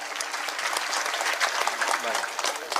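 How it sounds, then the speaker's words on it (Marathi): Audience at a live kirtan in Vadali Deshmukh claps loudly and steadily, a dense continuous burst of many hands sustained throughout with a few louder peaks. "खाली हात, टाळ्या वाजवा, जोरदार टाळ्या"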